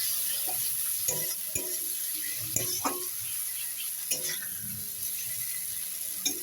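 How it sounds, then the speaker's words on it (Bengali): Spice paste for a Bengali fish curry, with Kashmiri chilli added, fries in a pan. It gives a steady low sizzle, and a spoon scrapes and stirs in short knocks every second or so. "মশলাটা আমি ভালো করে কষিয়ে নেবো"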